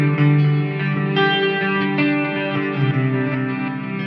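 Electric guitar run through a Qi Etherealizer pedal, sustained chords washed in chorus, echo and reverb with a light distorted edge, a steady shimmering wall of sound with no talking.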